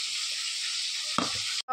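Chicken balls fry in hot oil in a kadai, giving a steady bright sizzle with a brief clink of stirring near the end.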